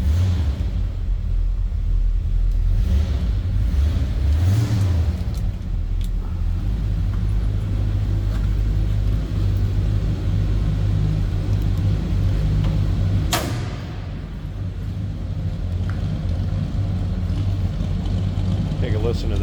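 A 1964 Chevrolet C10 long box pickup with a 350 V8 and automatic transmission idles after starting, a steady loud low rumble throughout with a brief sharp click near the end.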